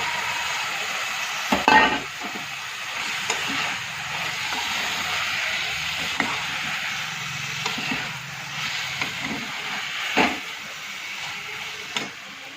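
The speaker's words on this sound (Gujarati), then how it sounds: "હવે અંદર આપણે નાખી દઈએ ડુંગળી બટાકા" Onions and potatoes sizzle steadily in hot oil with a continuous hiss, broken by a few sharp clinks and stirring scrapes.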